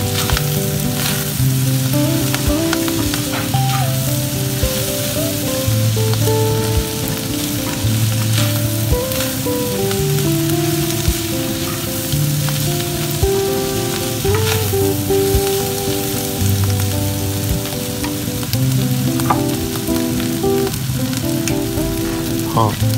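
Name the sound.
stir-frying and pan-frying river shrimp until crisp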